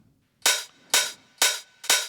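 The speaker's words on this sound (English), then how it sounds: "I also have some open hi-hats here" Four bright, sizzling open hi-hat hits, evenly spaced and fairly loud, each ringing briefly before decaying, with no voice over them.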